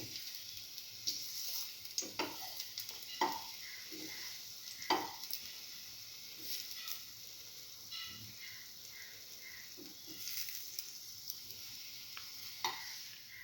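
Egg-soaked cinnamon French toast frying in a buttered pan, a soft steady sizzle with scattered small clicks and scrapes as the bread is moved around, close and fairly quiet with no talking.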